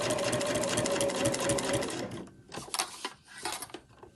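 A sewing machine runs a fast continuous line of stitches around a fabric sewing machine cover for about two seconds, close and loud, then stops, followed by clicks and handling sounds.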